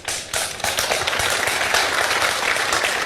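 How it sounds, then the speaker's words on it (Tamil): An audience claps together in a studio on a Tamil reality TV show, a dense, loud burst of applause that starts abruptly and carries on steadily without talk. "இங்க நீங்க யாரும் கைத்தட்ட வேணாங்க"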